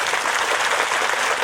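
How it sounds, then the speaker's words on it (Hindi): Loud, dense applause from a large seated audience at a stress-relief camp session, a continuous wash of many hands clapping close by. "तो इन मशालधारियों के लिए जोरदार तालियां बजाएं।"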